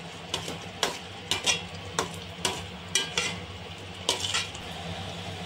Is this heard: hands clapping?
no